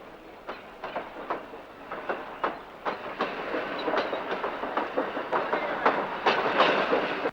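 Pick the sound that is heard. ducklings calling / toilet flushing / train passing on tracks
train passing on tracks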